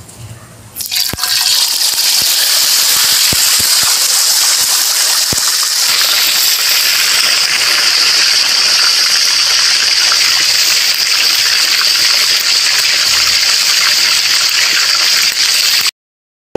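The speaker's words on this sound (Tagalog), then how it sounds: "Mayroon na po tayong napainit na mantika. Ipiprito na po natin." Loud, steady sizzling and crackling of a whole chicken frying in hot oil, continuous and close, with a few sharp pops near the start and no talking.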